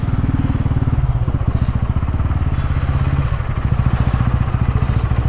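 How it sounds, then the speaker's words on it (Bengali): Several motorcycles idle and creep along in a dense traffic jam in Siliguri, their engines putting out a steady, close, throbbing rumble throughout with faint clatter mixed in. "কি জ্যাম দেখো এখন শিলিগুড়িতে"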